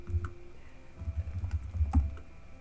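Someone types on a computer keyboard in a soft, steady, muffled patter of close keystrokes, with a brief pause near the start and no talk.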